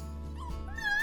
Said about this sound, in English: Shrieks and yelping can be heard regularly, along with the playful growls as they play with each other.